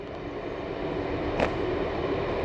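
A fast train on a 125 mph main line running toward Paddington rumbles steadily at a distance, a broad continuous roar with one brief brighter swish partway through, and no voices.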